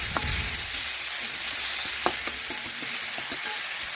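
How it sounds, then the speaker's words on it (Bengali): Onion and tomato frying in oil produce a continuous bright sizzle, with a few soft scrapes and taps from stirring, all fairly close and without talk. "এখন পেঁয়াজ টমেটো নাড়াচাড়া করে একটু ভেজে নেব।"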